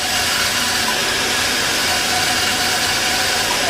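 A bandsaw with a six-teeth-per-inch blade cuts through a Corian sheet, making a loud, unbroken whirring hiss that stays level throughout.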